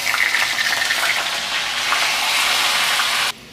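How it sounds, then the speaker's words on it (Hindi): Cut pumpkin pieces sizzling in hot oil in a halwai-style pan, a loud steady hiss and crackle that runs unbroken for several seconds before dropping off sharply at the end. "इसे ना कद्दू को अच्छे से इसमें फ्राई करना है, अच्छे से फ्राई कर लेना है"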